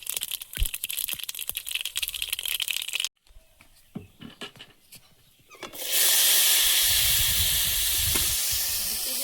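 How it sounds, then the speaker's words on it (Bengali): Dried red chilli and whole mustard seeds hit hot oil: first rapid popping crackles, a quieter spell of sputters, then a loud, sustained sizzle close up. "ফোড়নে দেবো একটা শুকনো লঙ্কা আর একটু গোটা সর্ষে"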